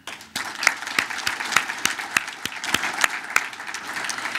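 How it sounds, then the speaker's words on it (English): Applause from an audience at a business appreciation breakfast, steady clapping from a modest crowd with sharp individual claps standing out, lasting about four seconds at moderate distance. "but a round of applause for them."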